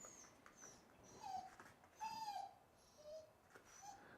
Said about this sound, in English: And this is going to make Epi bark probably.